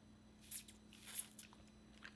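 Short, soft hissing bursts of chilled Avène thermal water mist are sprayed onto the lips, several quick puffs close to the mic in a quiet room.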